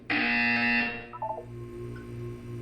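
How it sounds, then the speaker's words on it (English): Buzzer from the video game Portal 2 during a gymnastics exercise: a single loud, harsh electronic tone held for about a second, followed by brief beeps and a low hum. "When you hear the buzzer, look up at the ceiling."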